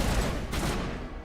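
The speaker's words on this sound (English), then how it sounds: "I know we're in the middle of a firefight" Dense, rapid gunfire crackles through a firefight in the video game Mass Effect 1, a loud, continuous burst of overlapping shots that trails off toward the end.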